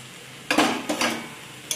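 Water spinach is tossed in a pan, making a few quick scraping, rustling strokes of utensil against metal with a soft sizzle between them, close and brief.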